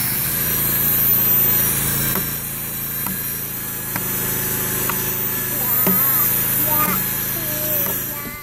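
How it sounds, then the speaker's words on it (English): A belt sander powered by a small generator smooths a wooden log bench outdoors, a steady droning hum with scraping passes and voices talking over it. "the belt sander hooked up to our little generator"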